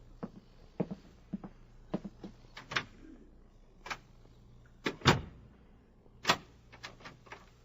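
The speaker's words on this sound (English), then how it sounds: "The door will be locked." Knocks and clicks of a door closing and its lock being worked, staged as radio drama sound effects for a hospital room scene, a series of sharp, separate impacts spread across a quiet background.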